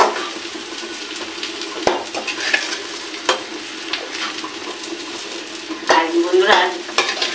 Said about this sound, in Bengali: সেই সয়াবিনটাকে যেন ভাজাটা পুরোপুরি ভালোভাবে সুন্দরভাবে হয়